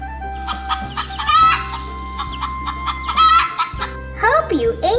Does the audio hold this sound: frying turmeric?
no